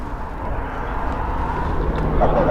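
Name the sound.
AgustaWestland helicopter approaching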